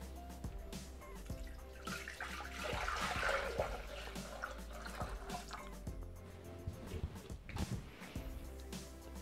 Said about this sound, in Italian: Senza lavare il boccale, adesso versiamo l'acqua per la cottura della pasta.